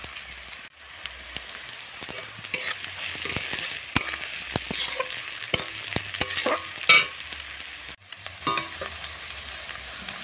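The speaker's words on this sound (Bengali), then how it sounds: "পেঁয়াজটা লাল লাল হয়ে গেছে, এর মধ্যে আমি এবার রসুন কুচিটা দিয়ে দেব।" Chopped garlic goes into browned onions frying in oil in a village kitchen, giving a steady close sizzle with repeated sharp scrapes and clacks of a spatula stirring the pan, with no talk.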